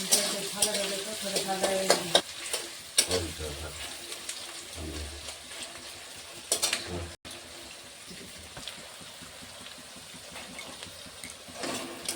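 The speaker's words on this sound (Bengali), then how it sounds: "পেঁয়াজগুলো লাল লাল করে ভেজে নিয়েছি" Chopped onions fry in oil with cloves in a pan for a country duck curry, loud sizzling that rises and falls with spatula stirring and clattering, then settles into a quieter steady fry.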